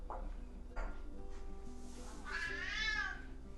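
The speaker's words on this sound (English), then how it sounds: "That is my cat in the background, and he's chirping at a squirrel" A male cat chirping at a squirrel gives a few short, soft chirping calls followed by a longer rising and falling meow, all moderately close and heard alone over a quiet background.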